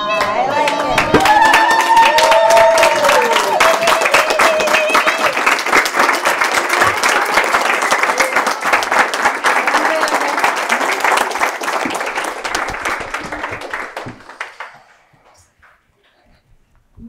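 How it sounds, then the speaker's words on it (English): An audience at a fireside storytelling gathering bursts into loud, sustained applause and cheering, then fades out over the last few seconds into near silence. "give a big applause to Sarah"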